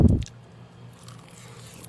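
A single crisp bite into a nori-wrapped samgyup lettuce bundle, close and intimate, followed by faint soft chewing and quiet room tone.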